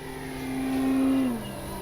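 Avios Grand Tundra RC model airplane taking off without flaps, its electric motor whine rising and falling in pitch as it powers up and passes close, then easing off.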